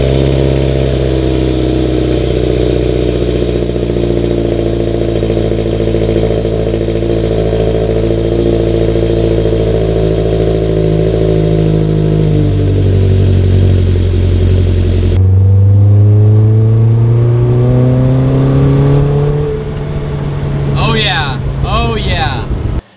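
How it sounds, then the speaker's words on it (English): A Mazda NC Miata engine idles with a deep, throaty aftermarket exhaust rumble, then revs up sharply and settles back down, loud and close. "I thought it sounded probably one of the best exhaust setups that you can get"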